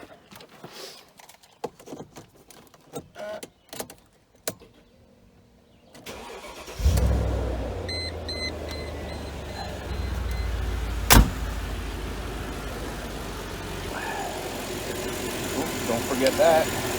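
A Mercedes M112/M113 V6/V8 engine cranks and fires, then settles into a steady low idle, with a sharp click partway through; a voice talks before the start.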